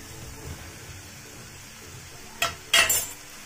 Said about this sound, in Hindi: आंवला डालकर इसको अच्छे से मिला लेंगे